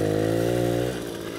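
A Soviet Riga Mini RMZ 30 moped engine runs close by with a steady buzzing two-stroke drone that drops slightly in pitch and loudness near the end, with no talk over it.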